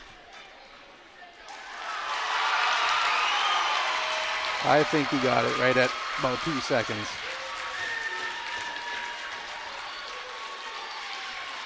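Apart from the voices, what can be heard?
crowd roaring and applauding at a wrestling match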